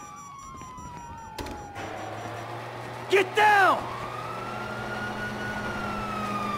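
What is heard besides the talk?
police sirens in a video game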